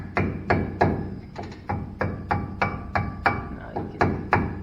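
Repeated hammer blows ring out as a dust cap is hammered onto a wheel hub, in a steady rhythm, about fifteen sharp close strikes, each with a short metallic ring.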